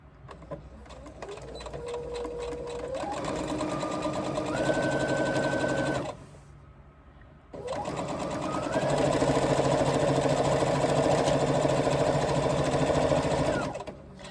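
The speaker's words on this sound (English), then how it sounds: "we are only going to stitch this top straight seam using 3/8 inch seam allowance" A sewing machine stitches a straight top seam in waterproof canvas, running in two steady whirring bursts, the motor pitch rising as it speeds up, with a short pause between.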